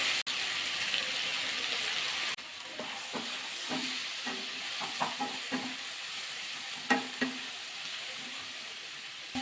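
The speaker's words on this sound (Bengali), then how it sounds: "3টে কাঁচা লঙ্কা, টমেটো দিয়ে নাড়াচাড়া করে দিতে হবে।" Green chillies and tomato fry in a pan for a Bengali pui greens and beans dish. A steady sizzle runs under repeated scraping stirs of a spoon, close and without talk.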